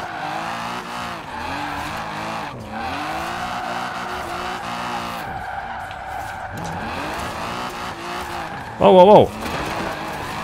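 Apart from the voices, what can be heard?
Mazda MX-5 engine and drifting in Forza Horizon 4 video game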